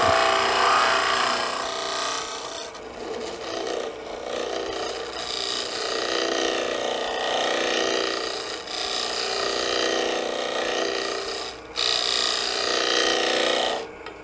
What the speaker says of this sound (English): With this ball mill, you can forget about tear out.